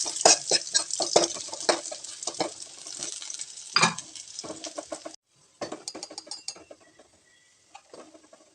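Dried red chillies crackle and sizzle in a pan while a spoon scrapes and stirs in quick, irregular strokes, then the sound drops off briefly and resumes more quietly.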